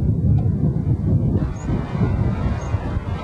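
Gusty wind blasting across a microphone at West Blockhouse on the coast, a loud, rumbling roar that surges and dips in uneven pulses, with no voices.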